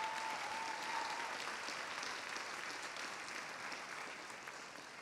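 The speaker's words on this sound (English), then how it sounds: "can we please give them one more round of applause?" A large audience at a dance awards event gives sustained applause, a dense wash of clapping that holds steady and tapers slightly toward the end.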